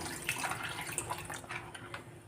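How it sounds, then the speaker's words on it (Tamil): Water splashes and trickles into a container of semolina batter for rava paniyaram, with irregular drips and sloshes close by against a steady low background hum. "தண்ணி ஊற்றி"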